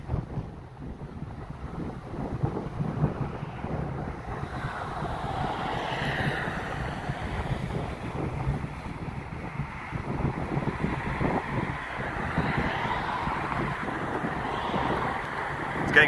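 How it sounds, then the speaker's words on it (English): Strong gusty wind buffets the microphone as storms roll in over Adelaide from the Adelaide Hills, a continuous rushing roar that swells and eases without a break. "The wind's getting stronger."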